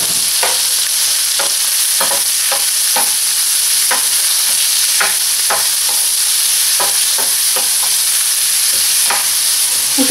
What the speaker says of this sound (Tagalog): isama na natin yung smoked bacon bits. So, tutustahin lang natin to